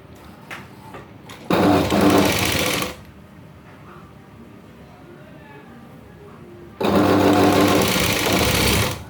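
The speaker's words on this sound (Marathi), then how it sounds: "डबल शिलाई मारायची" A sewing machine stitching a blouse yoke strip runs in two loud close bursts of rapid whirring, separated by quiet handling of the fabric.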